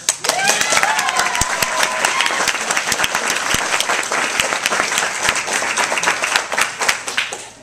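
A convention Q&A audience breaks into sustained applause, dense clapping filling the room at a steady loud level, with a few voices faintly mixed in.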